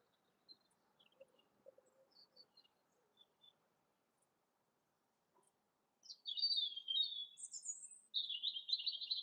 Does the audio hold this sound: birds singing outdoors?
yes